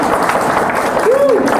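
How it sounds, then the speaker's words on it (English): An audience at a conference applauds together, a dense, loud burst of clapping with a voice briefly heard over it. "Clap your hands."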